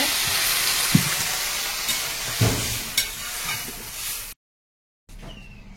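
Water is poured into a pan of frying fish, specifically large magur catfish, so the loud, steady sizzle and hiss surges in a few bursts, cuts off abruptly and resumes briefly.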